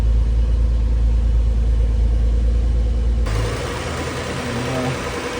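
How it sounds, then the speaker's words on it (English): A BMW E46 fitted with an N55 engine idling while warming up, a steady low rumble that drops to a lighter, softer idle partway through, with no talk. "Letting it idle for a little bit."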